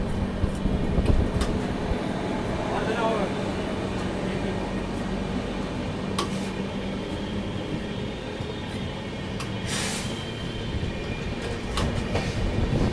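Puri Purushottam Superfast Express running just past Koderma Junction, heard from inside a first AC coach: a steady, loud rumble of wheels and car body with faint clatter and air-conditioning hum, continuous throughout with no talk.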